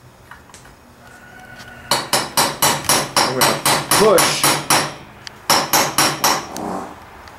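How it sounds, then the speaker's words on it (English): Ball peen hammer striking a punch to drive the crankshaft pin on a Husqvarna 394XP/395XP chainsaw, a loud run of sharp metallic blows in steady rhythm, a brief pause, then another burst; a voice speaks briefly. "line that pin up on punch up on that pin using a ball peen hammer"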